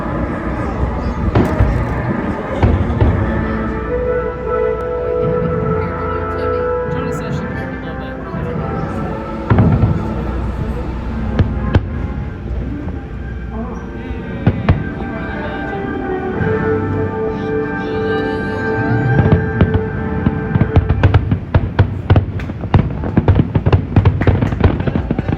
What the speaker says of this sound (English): they're going to start the fireworks in just a few minutes